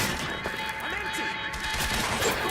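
Sustained suppressing gunfire in the Quantum Break video game, a dense continuous barrage of shots with battle noise and in-game voices over it.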